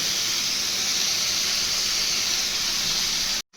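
Chopped beans and carrots steam in a pan for fried rice, giving a loud, even hiss that carries on without a break before cutting off abruptly at the end.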